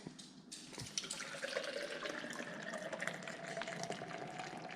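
Liquid pouring and splashing steadily in the engine compartment of a C5 Z06 Corvette during an engine bay deep clean, a continuous close trickling wash with no talk.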